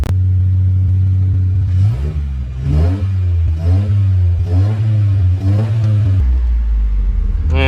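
A Jeep engine started with the stock key, idling loud and close with a deep steady rumble, then revved in about five rising and falling surges before settling back to idle.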